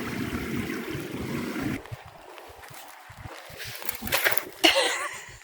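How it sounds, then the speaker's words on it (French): Strong river current surges around a bend, rushing water loud and steady throughout, with a rougher, splashier wash toward the end. "Le courant est plus puissant d'un seul coup."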